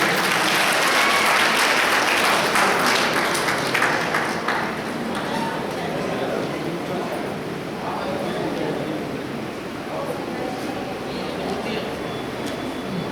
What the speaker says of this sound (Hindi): जोरदार ताली बजाकर एक बार स्वागत करें